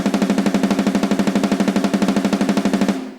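Programmed snare drum in a metal track, every hit at MIDI velocity 127, firing in a fast, perfectly even machine-gun roll of identical loud strikes for about three seconds before cutting off.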